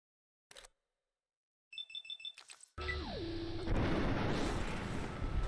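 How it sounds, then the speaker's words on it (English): An explosion in the video game Fallout New Vegas: after a short click and a bright electronic beeping, a loud booming blast erupts and rumbles on with a descending tonal whine. "sorry guys about that explosion."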